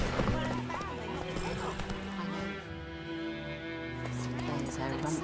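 Roach, the horse in The Witcher 3, clip-clopping along with hooves and a brief whinny, set under steady game music and a voice talking throughout.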